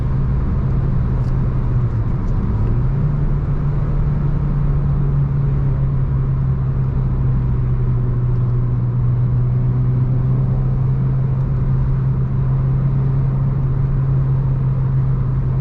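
Heard from inside a 2011 Renault Clio 3 RS with a 2.0L 203 hp engine, the car drives along with a steady, loud engine hum and road rumble, the pitch dipping briefly then holding constant.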